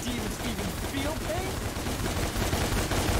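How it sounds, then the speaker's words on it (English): Gunfire in the action video game DmC: Devil May Cry, with rapid bursts of shots over a busy, dense game soundtrack. "I am using my guns to shoot him down"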